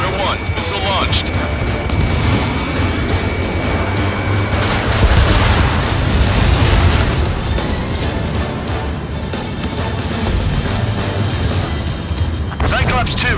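A missile launch and explosion rumble through an aerial battle in the flight game Ace Combat 7, with a steady loud roar of jet engines and heavy booms underneath radio chatter.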